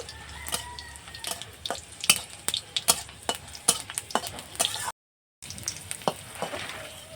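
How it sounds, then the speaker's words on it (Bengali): Dried red chillies and garlic cloves frying in hot oil with cumin seeds, a crackling sizzle broken by repeated sharp scraping knocks of a spatula stirring in the pan, close and steady, with a brief dropout before the frying resumes. "আর দেব কয়েক কোয়া রসুন, একটু ভালো করে ভেজে নেব।"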